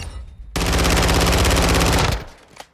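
B&T APC9 PRO submachine gun in Call of Duty Modern Warfare II fired on full auto in one loud, continuous burst of rapid shots lasting about a second and a half, then cutting off into a short tail.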